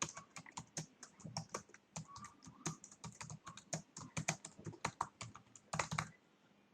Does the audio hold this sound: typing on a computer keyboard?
yes